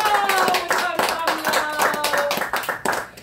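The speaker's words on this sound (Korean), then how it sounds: "오늘 이처럼 귀한 시간을 주신 하나님께 영광의 박수로 영광을 올려드립니다" A church congregation at a New Year thanksgiving service claps in praise, a close run of sharp, uneven handclaps with voices mixed in among them.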